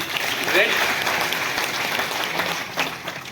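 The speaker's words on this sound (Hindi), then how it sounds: "आपके लिए जोरदार ताली होनी चाहिए।" Clapping from an audience at a business training seminar in a hall, steady and fairly loud with a faint voice briefly audible over it.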